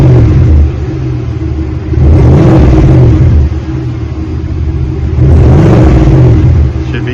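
A 2021 GMC Yukon engine with a Flowmaster 40 muffler revs up twice with a deep, throaty exhaust rumble, idling low in between, loud and close.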